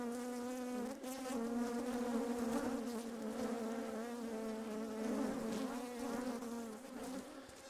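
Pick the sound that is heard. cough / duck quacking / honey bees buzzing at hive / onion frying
honey bees buzzing at hive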